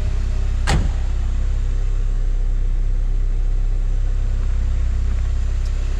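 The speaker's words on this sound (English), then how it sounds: "Engine sounds very strong." Idling engine of a 1990 Porsche 944 S2 Cabriolet, a steady, strong low rumble heard close up, with a brief sharp click or thump near the start.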